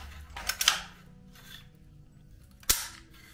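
An M16A4 airsoft rifle firing on release, giving two quick sharp snapping pops close together followed by a single crisp pop a couple of seconds later, close and clear with no talk.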